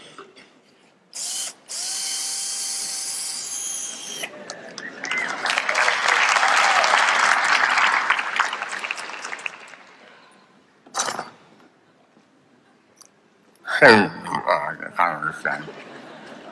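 A drill whines in bursts while boring holes through a carrot to make a musical instrument, with long ratcheting grinding passages, pauses, and someone talking in between.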